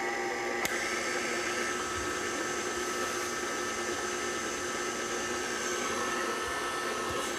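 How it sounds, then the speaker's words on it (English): Electric mixer beating kolacky cookie dough, a steady moderate whirring motor hum running continuously at an even pitch, with a single faint click near the start. "And now I'll mix this until the dough comes together."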